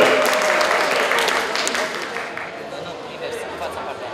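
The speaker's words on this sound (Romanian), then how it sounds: "Aplauze pentru Flex!" A crowd at a local robot competition applauds the winning robot, a dense burst of clapping mixed with chatter and a voice speaking over it.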